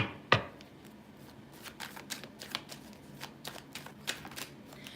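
A large deck of tarot cards is shuffled close by, quietly, in a quick run of soft riffling flicks and taps after one sharper snap at the start.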